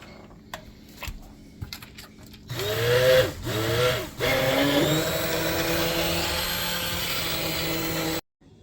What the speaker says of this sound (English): We're going to blend it up with our stick blender